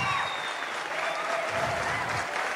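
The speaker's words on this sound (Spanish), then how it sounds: "Un aplauso, por favor, para el señor Johan Silva." An audience on a comedy show stage applauds, with dense, continuous clapping from a large crowd for a couple of seconds.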